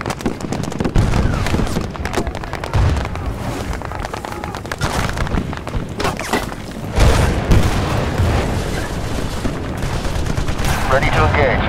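Video-game gunfire and explosions during an air gun run in Battlefield Bad Company 2: dense, continuous rapid fire with heavy booms, loud and sustained throughout, with radio-style voices mixed in.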